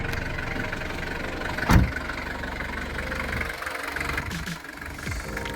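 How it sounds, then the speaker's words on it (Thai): A Mitsubishi Strada Grandis 2.8 4x4 pickup engine with over 200,000 km idles with a steady low rumble. There is one brief thump partway through, and no one speaks. "เดี๋ยวลองสตาร์ทเครื่องให้ฟังเสียงกันดูด้วยครับ"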